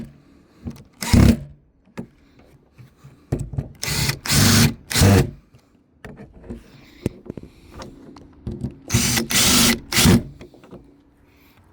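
A power drill drives screws while a keyless entry door lock is installed, firing in several short, loud whirring bursts separated by quiet pauses, with small handling clicks in between.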